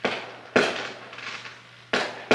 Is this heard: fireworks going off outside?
yes